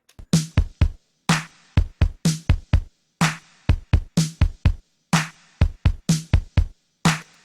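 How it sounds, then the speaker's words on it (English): Dry, unprocessed drum hits from a DX drum machine play a steady groove, punchy kicks and snares alternating in a tight repeating pattern, loud and close with no voices. "So let's have a look at drums. These are the raw DX recordings here"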